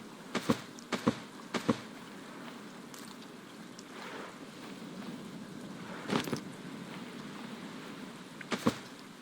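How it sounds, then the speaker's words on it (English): Rain falls steadily in the Stranded Deep game, a soft continuous hiss with occasional sharper taps and knocks standing out now and then, fairly quiet throughout. "it's raining"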